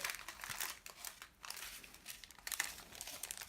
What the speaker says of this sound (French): Donc on commence par ouvrir délicatement le paquet.